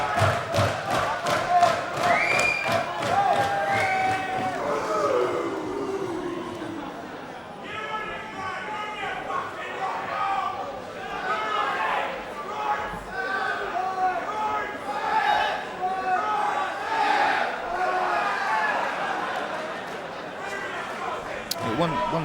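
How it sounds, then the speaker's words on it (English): The crowd at an MMA fight, Damien Riccio vs Ruben Vazquez, chants in a loud rhythmic pulse, with cheering and an indoor arena hubbub that rise and fall over about twenty seconds. "There seems to be a bit of a chant going around in the crowd here."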